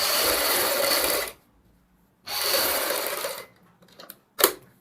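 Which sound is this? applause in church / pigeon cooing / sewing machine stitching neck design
sewing machine stitching neck design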